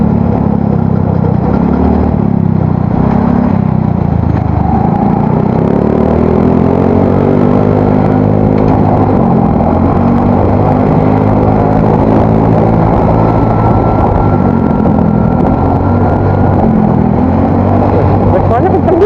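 A motorcycle with an aftermarket exhaust is ridden and revved in a steady, loud drone that rises and falls, while a rider's voice talks over it throughout.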